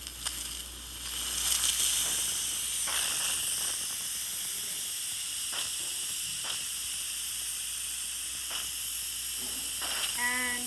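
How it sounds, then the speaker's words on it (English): Steam hissing out of an Instant Pot pressure release vent after it is pushed open, a loud continuous hiss lasting the whole stretch with a few sputtering bursts near the end. "when we push it down this way, we will open up the vents and the steam will come out"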